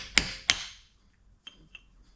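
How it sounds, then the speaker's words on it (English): Two sharp metallic hammer blows land on a chisel bending a bushing out of a Ford 4R70W transmission case on a solid surface, each ringing briefly before dying away, followed by a couple of faint light taps. "start kind of hammering at this one to"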